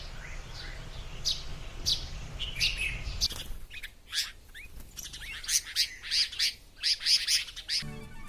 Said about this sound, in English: Every morning I wake up with the sweet sound of birds chirping around.